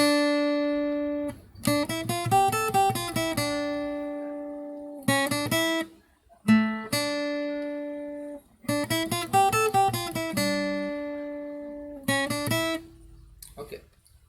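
An electric or acoustic guitar plays the melodic intro of the Ek Dantaya Ganpati Aarti in clear plucked phrases, notes ringing out in short runs separated by brief pauses, alone and close.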